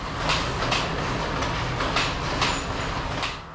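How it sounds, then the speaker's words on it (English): A Sri Lankan Class S14 diesel multiple unit, eight carriages long with a power car at each end, rolls by on the line from Kandy to Ella. A low diesel rumble runs under rhythmic wheel clicks that fade toward the end. "This is a Class S14, the newest generation of diesel units on Sri Lankan railways."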